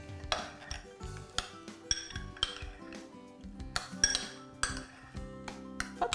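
Utensils clink and scrape against a bowl while salt and pepper are stirred into a broccoli mixture seasoned with pickle brine, a steady run of close metallic taps and scrapes with no talking.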